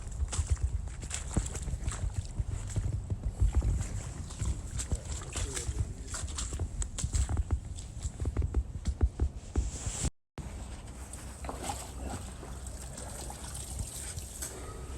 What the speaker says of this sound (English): I would say they have sprung a leak.